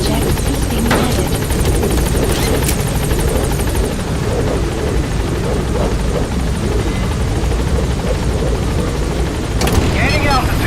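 The B-Quad helicopter in Metal Gear Solid V hovers at the landing zone with a loud, continuous rotor thrum and engine whine, while a radio voice speaks over it.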